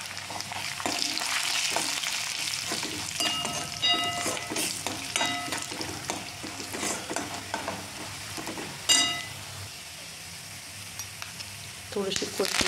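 Onion and peanuts frying in oil in a pan: a continuous close sizzle with metal spoon clinks and stirring scrapes throughout, and a faint voice in the background.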